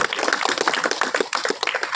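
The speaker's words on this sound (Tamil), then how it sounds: "அன்பால் ஒரு கைதட்டு" An audience at a Tamil stage comedy show claps steadily, a dense, close wash of overlapping hand claps.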